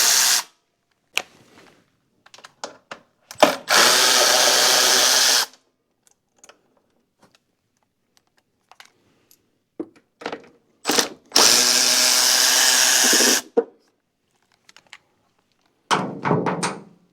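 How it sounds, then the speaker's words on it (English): Power drill driving an H5 hex bit to remove the shroud bolts on a Toro zero-turn mower, with two sustained loud whirring bursts of about two and three seconds, each framed by short clunks and clicks and separated by quiet handling noise. "Take a few bolts holding the shroud out at an H5"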